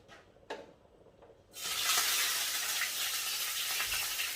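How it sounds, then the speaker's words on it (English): Onion, garlic, tomatoes, sweet pepper and a sprig of thyme hit hot oil, bursting into a loud, steady, close-up sizzle after a few quiet clinks and stirring sounds. "here we have some tomatoes and sweet pepper with a sprig of thyme that I'm going to allow to be sauteed in the oil"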